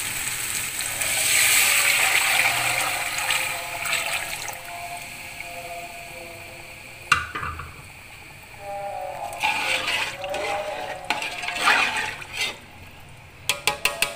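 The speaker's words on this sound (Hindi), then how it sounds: "यखनी डालेंगे।" Mutton stock (yakhni) pours and hisses into a hot pot of spiced, sautéed mutton trotters, a steady loud sizzle and gurgle that fades into bubbling, with a few clinks near the end.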